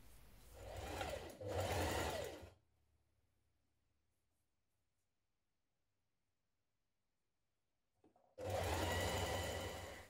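A sewing machine stitches a dress seam in two loud, even bursts, one at the start and one at the end, with near silence in between.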